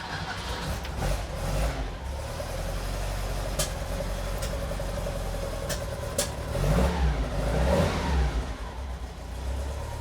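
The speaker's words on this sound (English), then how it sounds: "Cold start." Cold start of a lightweight hot-rod Porsche 911 engine, with a steady mid-pitched idle that swells into louder revs near the end, close by with no talking.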